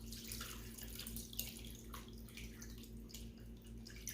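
Chicken broth pouring steadily into a pot, a continuous gurgling splash at moderate volume with a low background hum.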